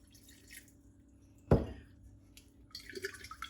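A glass of water tipped into a bowl for a chutney recipe: one sharp close splash that quickly tails off, set against a quiet room with faint clatter before and after.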